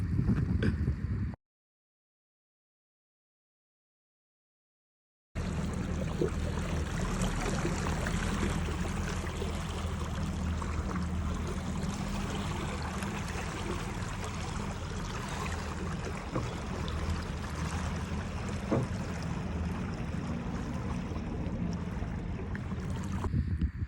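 A small boat pushed by a 45-pound-thrust electric motor struggles upstream against a strong current below Conowingo Dam, a steady, loud whir and water rush with wind buffeting, broken by a few seconds of silence near the start.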